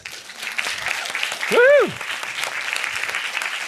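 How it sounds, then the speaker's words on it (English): Applause from a conference audience at a food forum panel, steady dense clapping throughout with a loud cheering whoop rising briefly in the middle. "Another big round of applause."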